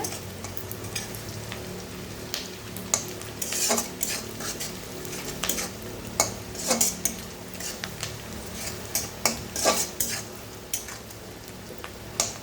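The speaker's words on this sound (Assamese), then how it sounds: "পিঁয়াজখিনি অলপ ভজা হৈ আহিছে।" Onions fry and get stirred in a pan for an Assamese hilsa fish curry, with soft sizzling beneath repeated close scraping and clinking of a utensil against the pan.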